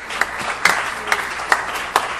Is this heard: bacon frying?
no